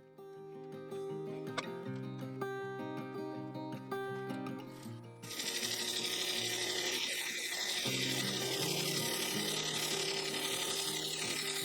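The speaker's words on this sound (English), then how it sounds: "I set to with a parting tool removing the excess material." A parting tool cuts an ash segmented bowl, set with purple resin, on a wood lathe. A tonal motor hum runs first, then a loud, steady hiss of cutting holds through the rest, close and continuous, with no talking.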